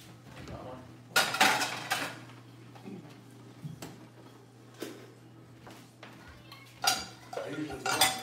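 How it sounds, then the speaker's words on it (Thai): Dishes and glasses loaded into a home dishwasher after the night before, with irregular clinks, clatters and rattles of crockery and cutlery close by over a steady low hum. "ล้างแก้วล้างจานเมื่อคืนนี้ไม่ได้ล้างก็ใส่เครื่องเอา"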